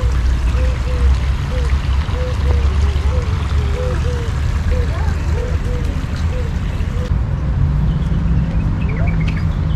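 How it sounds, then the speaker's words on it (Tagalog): Small birds chirp in short repeated notes at Al Emarat Park in Abu Dhabi, moderately close and steady over a constant rushing, water-like background noise. "maririnig mo pa yung uni ng ibon."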